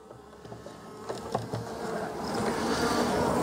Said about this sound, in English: I wonder how many bees are still in here.